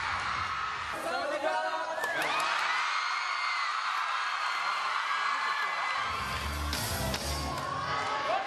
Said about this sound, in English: The fans screamed loudly when they saw them.